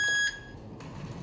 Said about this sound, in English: The alarm sounds like this.